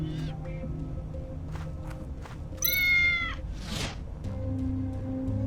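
A cat meows in the video game Tales of the Neon Sea, a single bright, drawn-out call standing out over soft game ambience and light clicking sounds.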